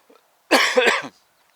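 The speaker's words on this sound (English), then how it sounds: "that's just a cough off the wind going through my throat" A single short, harsh cough during a road bike ride bursts out of silence, lasting about half a second.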